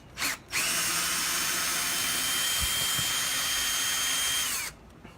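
A power drill backs a long screw out of a door strike plate, whirring steadily and loud for about four seconds after a brief spin-up, then stopping.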